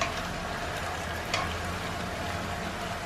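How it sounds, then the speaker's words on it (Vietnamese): Cabbage stir-frying in a wok-style pan gives a steady, close broadband sizzle with a brief louder scrape of stirring partway through, no voices over it. "Khi mà mình xào cái rau nó tái đi rồi nha mọi người."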